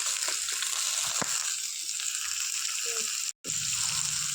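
A pan of frying spices with chopped tomato, chili powder, turmeric and cumin powder hisses in a steady sizzle after a little water goes in, with a few clinks and a brief cutout near the end.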